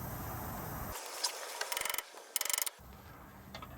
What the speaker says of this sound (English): I just use a breaker bar on just about anything I can